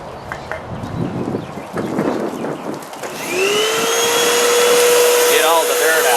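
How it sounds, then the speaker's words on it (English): A vacuum cleaner sucks dirt from the air cleaner housing of a 2014 Toyota Yaris, starting after some knocking and handling noises and then running as a loud, steady whine to the end. "now we need to vacuum it."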